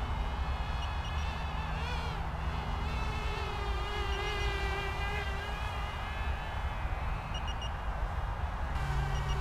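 A Cheerson CX-23 toy drone beeping as it flies: a continuous high-pitched electronic whine with the pitch wavering as it flies and a faint steady tone underneath.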